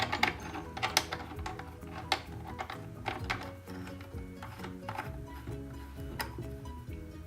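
A bracket being fitted onto the chin mount of a Vega Crux helmet, with a quick series of close plastic clicks, taps and small scrapes in an irregular rhythm.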